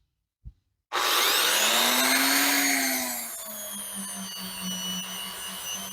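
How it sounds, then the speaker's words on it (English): A spinning abrasive pad on a stick, like a Brillo pad, whirs against the wooden covers of an old folding hunter knife: a loud, steady motorized grinding hum that rises in pitch, then settles into a lower tone. "It's like a Brillo pad on a stick. We're going to give that a whirl on the wood covers."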